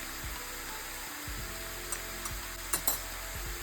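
Chopped onions with red chilli and Kashmiri chilli powder roast in a pan for paneer butter masala, giving a faint steady sizzle with a few soft stirring taps and scrapes, and no voices.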